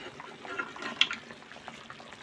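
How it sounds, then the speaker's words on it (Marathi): Water for khichdi bubbles at a boil in an uncovered pot, a soft, steady gurgling hiss with one faint clink near the middle. "हे बघा पाण्याला उकळी आली आहे"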